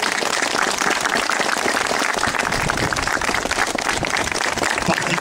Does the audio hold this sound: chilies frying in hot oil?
no